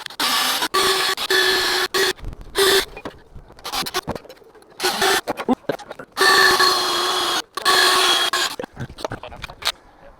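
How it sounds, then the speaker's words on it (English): A power drill bores holes to mount a FarmHQ hose reel sensor, whining in several close, loud bursts of one to two seconds, separated by short silent pauses. "I drilled the holes, and now I'm going to tap them out"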